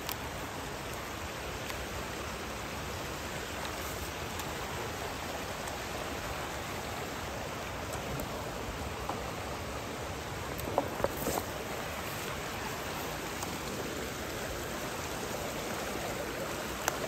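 Creek water flowing steadily in Payette National Forest, a continuous broadband rush and babble close by, with no voices and only small splashy flickers near the middle.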